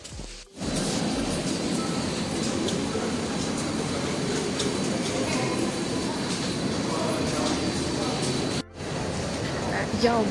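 Steady rumble of a commuter train rolling along, continuous and fairly loud, with brief quiet gaps at the start and near the end.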